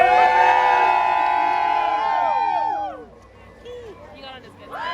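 A Chewbacca roar followed by a theme park crowd cheering and whooping with children shouting, loud and close, fading into scattered calls and babble.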